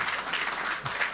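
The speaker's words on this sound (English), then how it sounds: "I think you have to clap a bit louder" A room full of people clapping at a town hall meeting, steady and fairly faint applause with no distinct individual claps.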